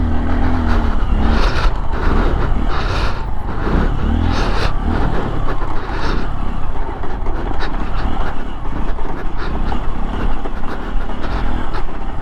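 A 2023 Honda XR150L dual sport motorcycle ridden hard on a trail, its engine a steady loud drone with rising and falling revs throughout, close and continuous.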